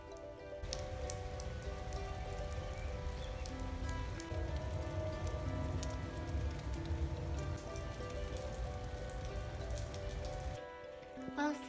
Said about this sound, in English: Well, Cinnamon, I think it's gonna rain all day long